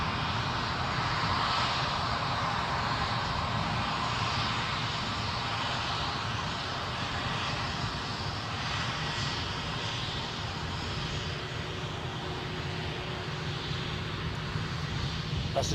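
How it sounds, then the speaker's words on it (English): A KLM airliner bound for Amsterdam, lined up at Edinburgh airport, begins its takeoff roll, giving a loud, steady broadband jet roar that holds at an even level throughout. "KLM is lined up, ready to go to Amsterdam. As soon as that starts rolling"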